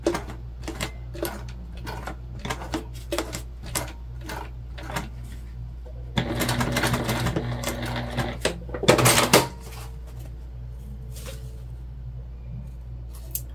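Hand-cranked sewing machine stitching fabric, a run of quick mechanical clicks and whirring taps, louder in a dense burst midway, close up with no talk.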